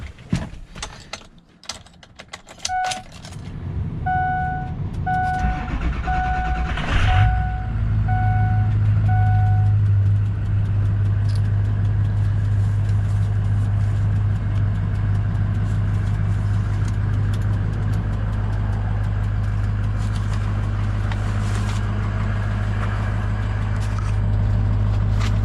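A 2003 Ford F250 Lariat diesel pickup cranks and starts after a few clicks and a short chiming beep, then settles into a steady, low, rumbling idle that continues unbroken.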